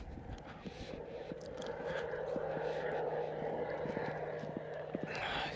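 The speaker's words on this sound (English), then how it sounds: "We've got a beautiful plane flying over." A plane passing overhead outdoors, a broad steady rumbling whoosh that builds and holds at moderate loudness, with scattered clicks and faint background sounds on top.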